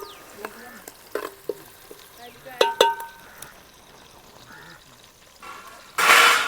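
Country chicken curry stirred in reverse with a metal ladle in a pot over the flame, giving scattered scrapes and clinks over a low frying sizzle, with a louder burst of hiss at the end.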